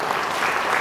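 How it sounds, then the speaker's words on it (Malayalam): An audience at a valedictory function bursts into brief applause, a quick, lively patter of many hands clapping at moderate volume. "നല്ലൊരു കൈയടി അദ്ദേഹത്തിനുണ്ട്."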